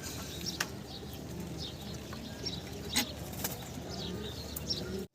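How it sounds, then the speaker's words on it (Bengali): Pigeons on a pigeon farm give soft, repeated coos with a few brief flutters and clicks, moderately close but faint, and no one speaks. "আমরা কিছু মুখ্য কবুতর আপনাদেরকে দেখাচ্ছি"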